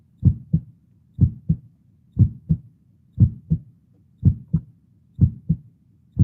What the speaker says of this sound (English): Keep my heartbeat going.